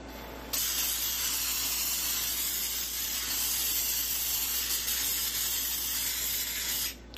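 A can of silicone spray sprayed onto glue in one long continuous hiss that lasts about six seconds, close and loud, starting and stopping abruptly.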